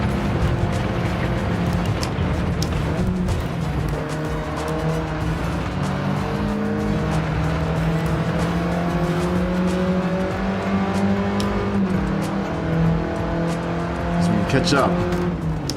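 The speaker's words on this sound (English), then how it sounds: "Just the rev limiter on this turn." A race car engine in Gran Turismo 7 held near its rev limiter through a turn, a loud sustained buzzing drone with climbing and falling pitch lines and tire noise, while someone talks over it.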